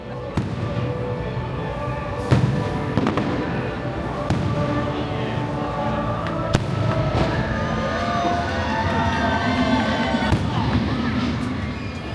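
Nighttime fireworks at Disneyland crackle and pop in scattered bursts for the whole stretch, set in a steady wash of crowd noise and background chatter at a theme park.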